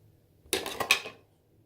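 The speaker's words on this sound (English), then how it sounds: "opening it up, it's a screw top lid" A screw-top lid twisted off a jar of beeswax-based product, a short close scraping and clicking burst of about half a second with a couple of sharper ticks, alone in a quiet room.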